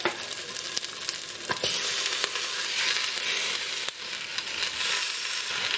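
Mackerel pieces laid into a pan over browned shallots with the heat just turned off, giving a steady close sizzle and crackle with a few brief clinks, no talking.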